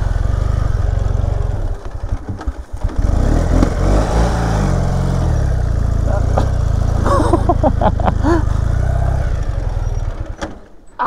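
Sidecar motorcycle engine running and revving nearby, rising and falling in surges over rough wet ground, with people talking and exclaiming over it.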